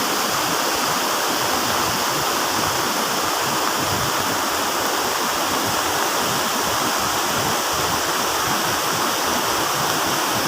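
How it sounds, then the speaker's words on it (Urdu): The Neelum River in Azad Kashmir running high and turbulent after April rains, a loud, constant broadband rush of water close by with no breaks. "آج دریا میں طوفانی آئی ہوئی ہے، اپریل کا مہینہ ہے، بارشیں ہو رہی ہیں۔"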